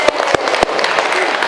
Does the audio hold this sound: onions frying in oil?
no